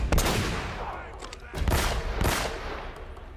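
Gunfire in the video game Uncharted: Drake's Fortune, a burst of loud, close shots with sharp cracks around a second apart and a sustained rumbling volley between them.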